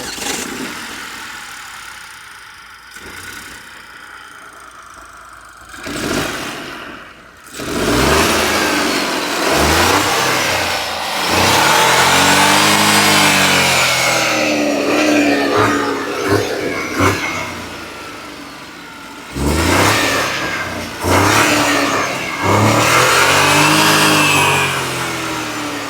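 The 1.2 litre turbo engine of a Citroën C3 Aircross revs up hard several times, rising and falling loudly and close, with quieter idling and clunks in between.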